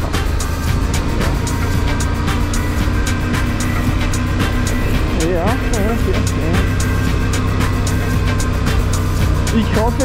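A motorcycle is ridden along a road on La Palma, heading down toward the beach. Steady engine drone and wind rush fill the whole stretch, loud and close, with small shifts in pitch as the bike moves.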